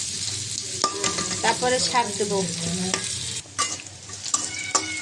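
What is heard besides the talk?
onion, green chilli and garlic frying in oil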